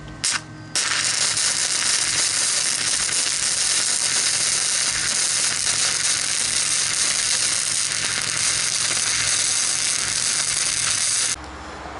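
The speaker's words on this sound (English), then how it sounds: "Let's get to welding." Welding on a muffler clamp of a 2011 GMC Sierra truck, a loud, steady crackling sizzle that runs unbroken for about ten seconds after a short start, then stops abruptly.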